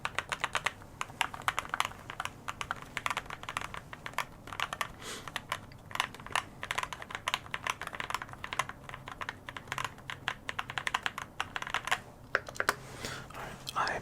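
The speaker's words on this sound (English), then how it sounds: "I'll just keep going with the keyboard sounds for another minute or two" Keys clatter in a steady, close stream of typing on a computer keyboard, with irregular quick taps and occasional louder presses, recorded intimately for ASMR.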